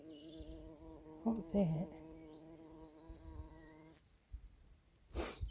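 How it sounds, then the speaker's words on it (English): Outdoors in an eco garden, a wasp or bee buzzes with a steady droning whine. The sound is fairly close but soft, with a few brief spoken words and faint birdsong behind it. "I can hear a wasp or a bee."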